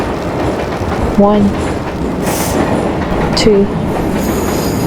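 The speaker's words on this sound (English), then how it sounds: "eyes on the iron beast roaring past. Then came the boxcars, rusted," A train of rusted boxcars rolls past with a continuous rumbling clatter and two brief wheel squeals, while a voice speaks over it.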